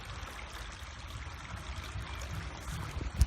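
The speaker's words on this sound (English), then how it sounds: "All you can hear is listen to the water go" A woodland stream flows over its bed, a faint, continuous trickling and gurgling close by with a few soft splashes near the end.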